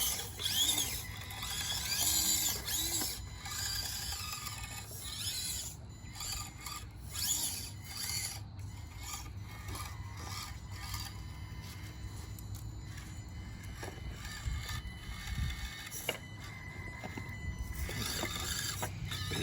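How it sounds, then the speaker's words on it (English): A small EMAX servo on an Axial SCX24 RC crawler strains and buzzes under load on muddy ground, a continuous raspy grinding with bursts of rubbing and scraping, fairly faint throughout. "You can hear the servo when it gets under a little load"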